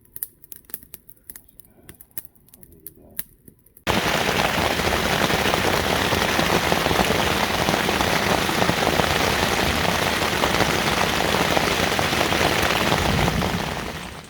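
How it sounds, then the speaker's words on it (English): Steady heavy rain falls overnight at an overland camping spot, starting abruptly after a few seconds of faint ticking and then pattering loudly and continuously. "So it rained since midnight last night?"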